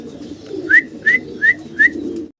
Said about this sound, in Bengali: আমরা খুব চমৎকার এক জোড়া স্টেসার কবুতর দেখতে পারতেছি এখানে